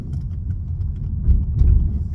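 Car pulling away from a roundabout: a low, steady engine rumble that swells slightly as it accelerates, heard from inside the vehicle with no voices.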